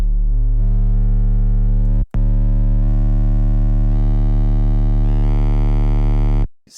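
A low, steady bass tone hums on while its sound grows harsher and buzzier as distortion builds, with brief cutouts partway and at the end.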